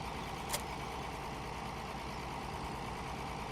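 A 120-horsepower tractor engine idles in the Farming Simulator 17 video game, a steady low rumble holding even throughout with one brief sharp click early on.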